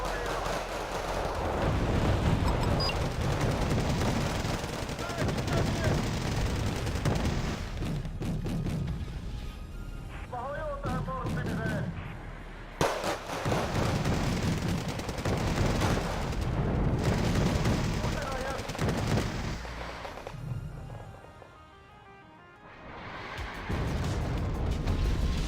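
Gunfire and explosions in the video game Wargame Red Dragon, with dense, continuous bursts of shots and heavy booms overlapping throughout. The firing briefly thins and dips near the end before resuming.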